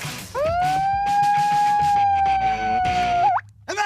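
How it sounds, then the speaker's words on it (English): A loud single-tone siren signals the end of a build challenge, swelling up and holding a steady wail for about three seconds before cutting off abruptly, with background clatter and commotion beneath. "that siren means the build is over"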